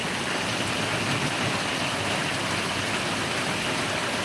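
Heavy monsoon rain pours down over farmland in Bedag, Miraj taluka, Sangli district, a loud, dense, unbroken hiss that stays steady throughout with no voices.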